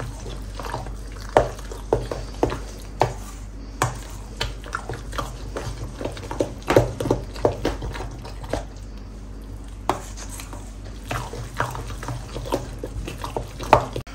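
Pomegranate juice poured into a dish while preparing Gilani kal kabab, heard as a run of soft splashy drips and liquid bursts in an uneven rhythm, close and moderately loud, with no talking.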